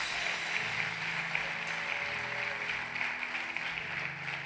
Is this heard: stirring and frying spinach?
no